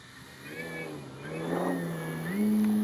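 A 20cc gas engine on a Hangar 9 Valiant RC plane drones in flight, a buzzing tone that rises and swells, growing louder and nearer before settling into a higher steady pitch.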